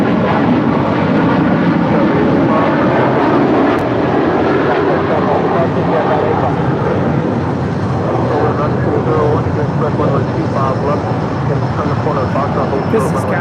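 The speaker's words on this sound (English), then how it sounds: "This is Cathay Pacific A85 departing to Hong Kong on the 777-300ER." A Cathay Pacific Boeing 777-300ER jet departs for Hong Kong, a loud, continuous broadband engine roar holding steady throughout, with voices talking over it.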